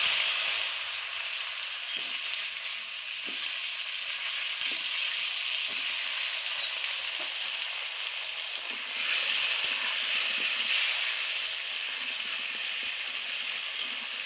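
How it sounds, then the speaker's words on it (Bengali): Pieces of bottle gourd fry steadily in hot oil, giving a continuous bright sizzle with soft scattered pops and faint stirring clicks throughout, fairly close and without speech. "ওই তেলে আমি লাউগুলো ভেজে নেব।"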